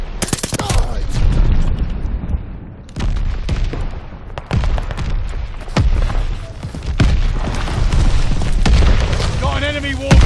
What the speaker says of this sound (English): Enemy shells coming in hot! Throwing stun grenade!